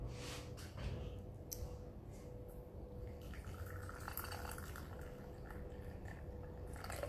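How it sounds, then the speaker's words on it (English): Water pours into a teapot for herbal tea, a faint, continuous liquid trickle and splash running steadily with a soft drip-like patter over quiet room noise. "So let's just put our water in there."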